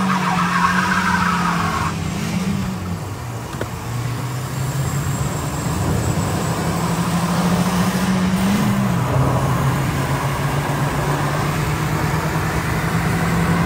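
Iran Khodro Tara and Peugeot Pars TU5 cars launching in a drag race, engines revving with steady drones that climb and shift through gears, mixed with tire squeal and road noise, loud and close throughout.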